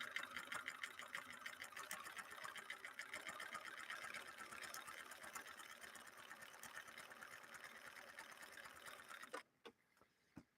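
A Bernina Record 930 Electronic sewing machine stitching a decorative green stitch. It runs in a rapid, even clatter for about nine seconds, then stops, leaving a few faint clicks.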